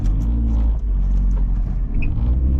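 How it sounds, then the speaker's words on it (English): Loud, close engine rumble of a car with a failing clutch straining, with a rough, uneven grinding drone and small dips in power. "we need a new clutch. You can hear how terrible it sounds."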